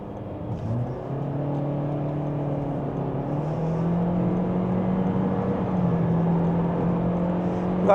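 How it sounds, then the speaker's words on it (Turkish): Toyota Corolla Flame X-Pack hybrid accelerating on the road from inside the cabin, engine drone rising steadily in pitch with road and tire noise building underneath, no talk. "Gerçekten 120'lere anında çıkıyor araç."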